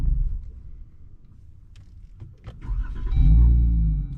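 After some quiet clicks and a couple of sharp knocks, a Jeep Wrangler Rubicon engine with its muffler deleted cranks and catches, settling into a loud, deep rumbling idle close by.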